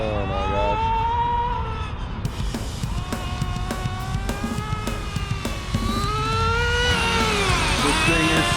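A nitro-powered HPI Nitro RS4 MT2 RC car engine screams at high revs, its whining pitch rising and falling in sweeps as the throttle is worked, loud and close throughout.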